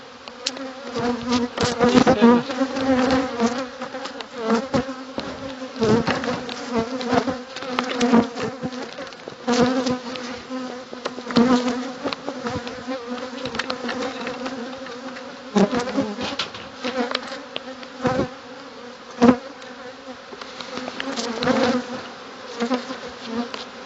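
Honeybees swarm around their hives during a chestnut honey harvest, making a dense, continuous buzz with individual bees zipping close past. The buzz is loud and steady throughout, with no talking.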